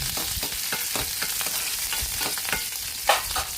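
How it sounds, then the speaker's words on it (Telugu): Green chillies and ginger fry in a pan, giving a close, steady crackling sizzle with soft stirring scrapes and one brief louder knock near the end. "ఇవి బాగా ఫ్రై అయిపోతానండి"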